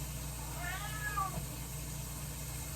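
A cat meows once in a kitchen, a short, faint, rising-and-falling call over a steady background hum.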